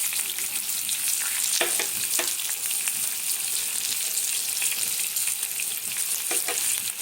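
Moong dal, chickpeas and green gram stirred in a hot pan for a dalia breakfast, a continuous close frying sizzle with a few sharper scraping strokes scattered through it, no voices.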